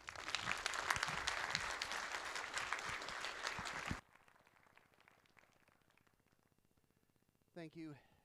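Conference audience applause for a speaker at a programming event: dense clapping for about four seconds that stops abruptly, followed by near silence with faint room noise and a brief voice at the end.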